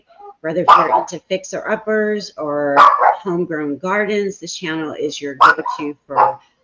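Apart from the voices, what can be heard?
dog barking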